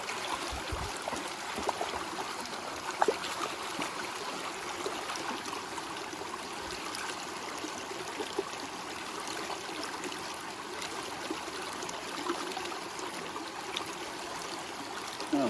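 Cold creek water running over rocks and a small waterfall at an old mining claim in snowy northern Idaho, a steady close rushing and trickling wash that goes on without break.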